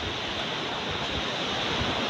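Sea waves washing onto a shore, heard as a steady broadband roar of surf with some wind noise, continuous and fairly close throughout, with no voices.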